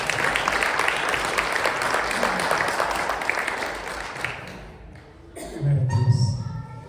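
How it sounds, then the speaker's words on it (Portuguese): Church congregation applauding a preacher's call to praise, a dense sustained wave of clapping that fades out near the end before a voice begins speaking. "Você pode aplaudir o Senhor?"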